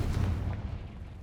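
A Confringo spell explosion in the Hogwarts Legacy video game, one short, heavy, booming blast that quickly fades.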